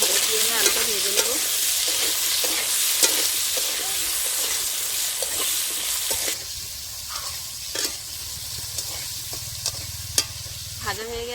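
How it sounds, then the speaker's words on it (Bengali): Potatoes seasoned with salt and turmeric fry in a pan. A continuous, bright sizzle is broken by repeated clinks and scrapes of stirring, with no speech. "আলুটা ভেজে নেব।"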